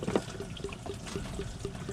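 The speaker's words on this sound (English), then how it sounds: "You can hear the coolant gurgling." Engine coolant gurgling out of the thermostat hole on a 2015 Chrysler Town and Country with the 3.6L engine, steady bubbling and trickling with a regular pulse of glugs, close and continuous.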